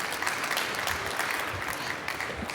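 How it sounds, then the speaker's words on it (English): An audience applauds steadily at a start-up award presentation during the Formnext trade fair, dense clapping filling the hall without a pause. "Give a big applause for Axolotl."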